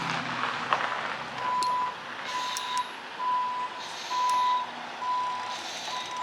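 Repeating reversing beeps from a newly bought older pickup used as a farm chore and work truck, steady evenly spaced tones over a low idling engine rumble outdoors, with occasional brief hisses.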